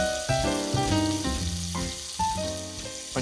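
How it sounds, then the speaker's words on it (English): Pancetta fries in olive oil in a pan, giving a steady crackling sizzle close up, mixed with clinking and tonal kitchen sounds. "the pancetta right now, as it's reducing, as it's frying into the olive oil"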